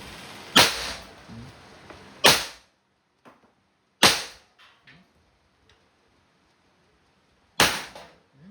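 Several sharp, loud shots from an Umarex T4E TP50 air pistol with gaps between them, some followed by a faint metallic clatter of a plate being hit and knocked down.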